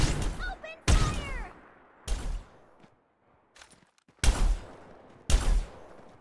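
Gunfire in the mobile shooter Farlight 84: several separate loud bursts of shots, each followed by a short quiet gap. Synthetic game voice callouts are mixed between the bursts.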